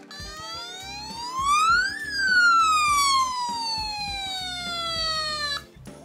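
A DX K-Cops Duke Fire toy police robot, its corroded battery contacts sanded clean, blares an electronic siren that rises sharply, then slides slowly down in a long wail, close and loud, cutting off abruptly at the end.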